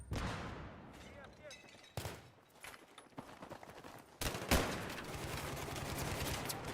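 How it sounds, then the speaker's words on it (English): Bursts of automatic machine gun fire in the combat video game Battlefield 3, sharp cracks and rattling volleys over a noisy battlefield bed, growing denser and louder toward the end. "Пулемет! Пулемет!"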